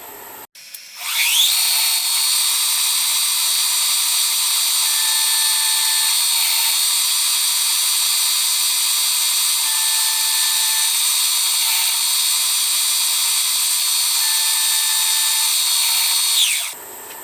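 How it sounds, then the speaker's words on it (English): A drill cutting hole centres in a workpiece held in a lathe chuck, parts for a Stuart Turner No. 8 mill engine, makes a steady, loud motor whine with a high ringing tone that runs unbroken for about fifteen seconds, with no talk. "So I'll drill the first one, and then we'll just rotate the chuck round through 4 divisions."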